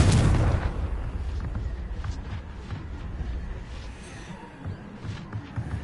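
In Hogwarts Legacy, the Confringo fire spell bursts with a deep boom at the start that fades into a low rumble, followed by fainter crackles and pops.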